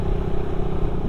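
A Suzuki Satria FU motorcycle fitted with a type C exhaust header idles close by, a loud, rough, throbbing rumble with a steady pulsing beat.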